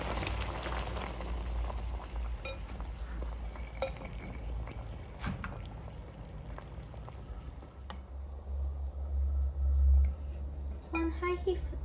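A pot of water comes to a boil on high heat as black tapioca pearls are slowly added. It gives a low, steady bubbling rumble with scattered light clicks and clinks from utensils, and the bubbling swells toward the end.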